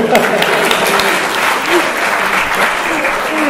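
An audience at a City Circle talk with Baroness Warsi claps in a dense, sustained burst of applause, loud and close throughout, with faint voices mixed in.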